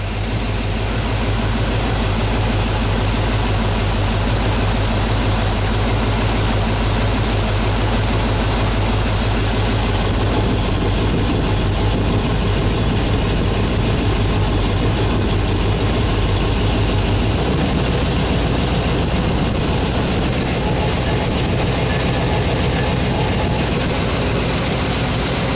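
A Chevy 350 V8 runs steadily during break-in, its loud continuous engine drone holding a constant low hum for the whole stretch. The tone shifts slightly partway through, and no one talks over it.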